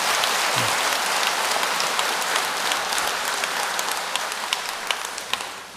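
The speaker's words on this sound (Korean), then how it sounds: "박수를 한번 크게 한번 쳐보세요." Loud, dense applause from an audience at a Buddhist monk's dharma talk, sustained steadily for about six seconds with no voices over it.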